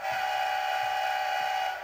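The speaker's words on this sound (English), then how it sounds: "So the first one is the long horn, which sounds like this." An HO scale Bachmann NS 1066 heritage-unit model locomotive sounds its long horn, one steady sustained blast holding at even loudness for about two seconds with nothing else over it.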